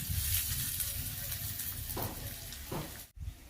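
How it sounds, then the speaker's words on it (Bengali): Chopped onion hisses in hot oil with a steady close sizzle, broken by a couple of stirring scrapes in the pan and a brief dip near the end, with no clear talk. "সেই কুচানো পেঁয়াজটা এর মধ্যে দিয়ে দিচ্ছি"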